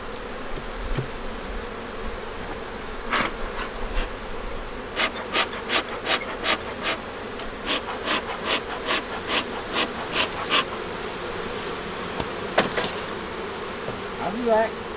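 Honey bees hum steadily around their hives in a swampy area, with a constant close buzz broken by a run of sharp wooden taps and knocks.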